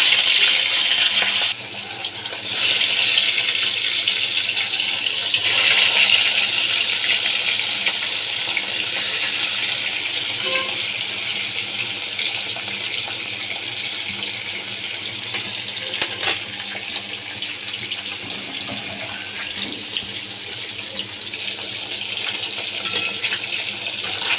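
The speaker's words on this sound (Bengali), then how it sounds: "মাছগুলো ভেজে নিচ্ছি" Katla fish fry in hot oil in a wok, giving a steady, close, bright sizzle and crackle with small popping spatters that lasts the whole time.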